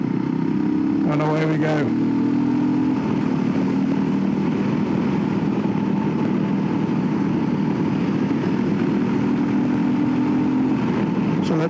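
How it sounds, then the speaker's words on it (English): A Voge 300 Rally motorcycle engine rasps steadily while riding, a continuous buzzing drone with a brief rev change near the start, heard close alongside a talking voice. "I do like that little rasp, lets you know you're on some kind of off-roader style bike."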